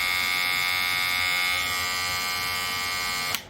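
A Philips QC5115 family hair clipper runs close by with a steady, moderate electric buzz. The pitch shifts slightly partway through, and the clipper cuts off abruptly near the end.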